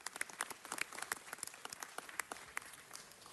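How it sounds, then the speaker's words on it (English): Audience applause at a city council meeting: a scattered round of hand claps, fairly quiet and a little distant, with sharp individual claps standing out over the few seconds it lasts. "Give him a round of applause."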